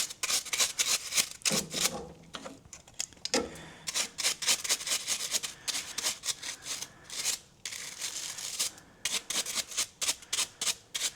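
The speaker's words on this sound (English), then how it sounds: "Just give the rest of this a nice bit of a brush up with the degreaser." A brush scrubs degreaser over a motorcycle carburetor that has sat unused for four years, giving quick irregular bristly rasping strokes in close bursts with brief pauses, no talking.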